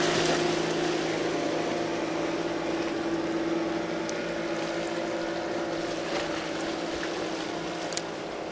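Motorboat engine running at sea during a fishing trip, a steady droning hum with a constant tone and wash of water and wind noise, continuous and fairly close, with no talking.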